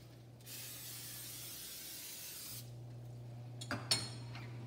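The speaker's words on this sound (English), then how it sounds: "you want to just spray these" A steady aerosol hiss of cooking spray on chicken tenders runs for about two seconds, then stops, followed by a few light clinks and rustles nearby.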